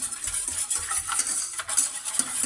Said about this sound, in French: on met la farine avec le lait froid, on mélange rapidement